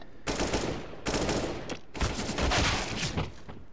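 Rapid bursts of gunfire from a Counter-Strike match, several volleys of shots in quick succession with short gaps between them, loud and close, and no talk over them.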